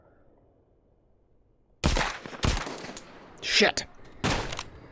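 Gunfire in The Walking Dead: Saints and Sinners Aftershocks during a high school raid: four or five loud, sharp shots in an irregular burst after a quiet stretch, with a man briefly exclaiming among them.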